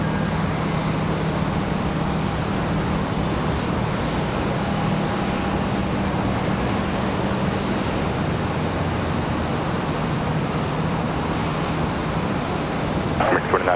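An Airbus A321 airliner arrives at Charlotte Douglas airport, its engine roar a broad steady rumble carrying from a distance through the whole stretch, with wind noise over it.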